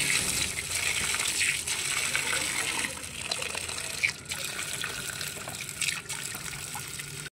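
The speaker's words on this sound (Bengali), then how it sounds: "ফলগুলোকে ধুয়ে নিচ্ছি" Fruit is rinsed under steady running tap water, a continuous splashing gush with a few small knocks and clinks, close and alone.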